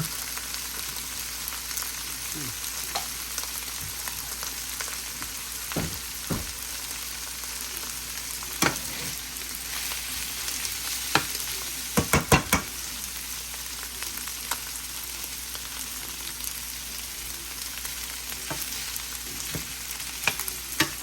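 Fish, rice and steamed broccoli fry in a skillet with a steady soft sizzle over about twenty seconds, broken by occasional scrapes and taps of a utensil stirring, including a short cluster of knocks midway.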